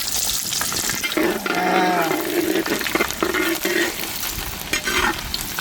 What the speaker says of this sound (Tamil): ஜீரகம் பொரிஞ்சிருச்சுன்னா பூண்டு போட்டுக்கலாங்க